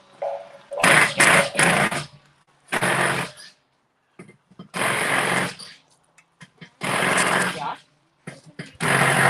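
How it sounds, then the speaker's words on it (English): A power drill cuts holes in an Adventra for a snorkel fitting, running in loud, repeated bursts of high whirring and grinding separated by short pauses, close by, with people talking between runs. "every time you say something, Bill purposely runs the drill"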